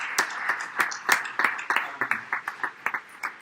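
Scattered clapping at a season banquet held in a church, a handful of distinct sharp claps at an uneven pace, fairly close and thinning out toward the end rather than a full crowd roar.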